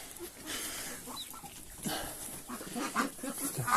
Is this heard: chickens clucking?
yes